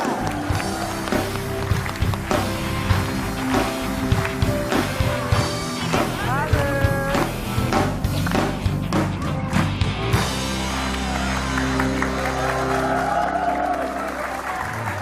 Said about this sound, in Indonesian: Beri tepuk tangan meriah untuk Bribka Dewi Sri Mulyani dan Brigadir Dara.